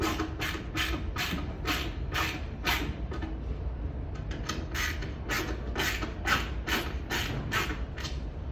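Screws being driven into a B202 TV stand during assembly, a rapid run of ratcheting clicks in two bursts separated by a short pause, close and steady with no voices.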